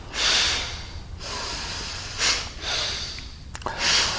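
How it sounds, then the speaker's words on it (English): Long, fast breaths drawn through the nose during Kundalini meditation, filling and emptying the belly, come as a run of loud, close, rushing breath bursts at an even pace, with no talking. "start breathing, long and fast breathing into the belly through the nose"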